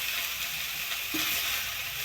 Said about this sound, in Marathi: मिरची आणि लसणाची चव त्यात लागतेच फ्राय होताना भाजी